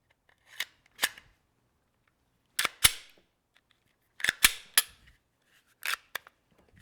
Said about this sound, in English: let's go ahead and pop our upper back onto the gun